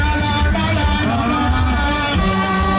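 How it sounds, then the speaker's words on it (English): An excited crowd of former PDP members turned APC supporters gives a rousing welcome at a party event, a steady dense roar of voices and cheers, loud and continuous throughout. "an excited crowd of former PDP members, now turned APC faithfuls,"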